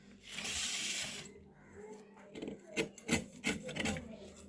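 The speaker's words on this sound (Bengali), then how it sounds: "এই যে এভাবে আমি সবগুলো নারকেলকে পরিষ্কার করে নেব" A coconut shell is scrubbed clean of dirt by hand, giving a close, soft rasping rub followed by a run of short scraping strokes in an uneven rhythm.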